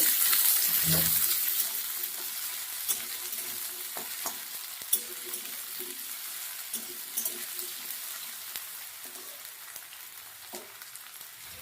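Diced potatoes fry in hot oil over medium heat in a pan, a continuous close sizzle that fades slightly over time, punctuated by frequent clicks and scrapes of stirring.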